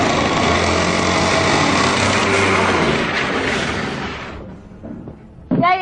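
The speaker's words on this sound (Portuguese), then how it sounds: "Bom, o motor tá rajando." A car engine running rough and misfiring, loud and continuous for about four seconds, then dropping away to near quiet before a short burst of revving at the end.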